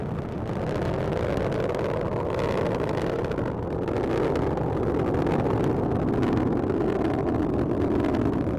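A continuous, heavy roar of a Delta IV rocket engine rumbles steadily throughout a supersonic ascent, broad and dense with no breaks, like a launch heard from a distance.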